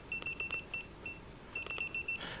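A force gauge beeping at its set limit of 9 newtons while testing keycaps, a series of short high electronic beeps in quick bursts with brief pauses, close and clear.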